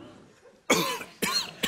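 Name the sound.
cough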